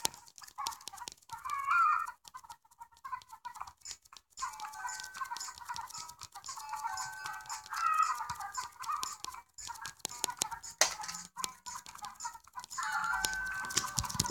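Chickens cluck and squawk in repeated bursts in the Egg Inc video game, over scattered tapping and clicks, fairly close, with no one talking.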